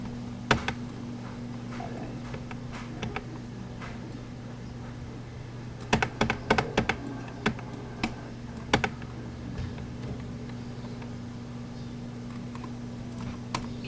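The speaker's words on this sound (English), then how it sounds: "simply by pressing tab on your keyboard" Keys clatter on a computer keyboard during 3D modeling work in Blender. Scattered single clicks turn into a quick cluster of keystrokes midway, all over a steady low electrical hum.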